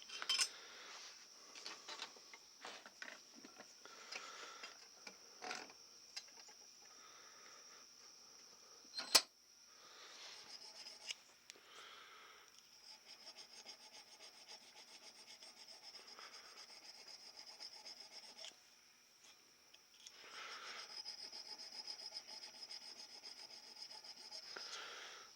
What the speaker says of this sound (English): I'm just going to take a little 1/8 inch square file and square off the end of this slot